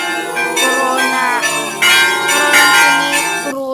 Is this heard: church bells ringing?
yes